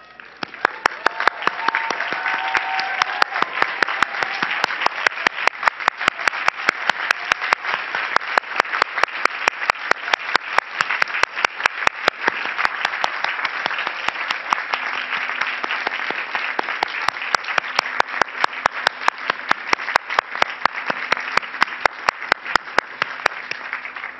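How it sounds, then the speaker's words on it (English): Sustained applause from a commencement audience of graduates, family and friends gathered on an outdoor lawn, steady dense clapping that holds for over twenty seconds with a faint murmur of voices underneath. "applause."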